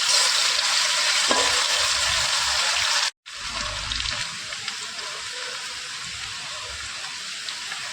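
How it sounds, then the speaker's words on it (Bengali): Potato pieces fry in oil in a pan while a fish-head muri ghonto is being cooked. There is a loud, continuous close-up sizzle, broken by one brief silence partway through. "একটু লাল হয়ে গেলেই আমরা আলুটা ভেজে তুলে নেব"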